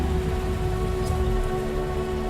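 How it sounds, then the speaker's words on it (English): Steady rain in the video game Xing: The Land Beyond, a dense, even hiss of drops on surfaces that fills the whole stretch without letting up, with no voices over it. "I think having the rain active is probably going to be detrimental"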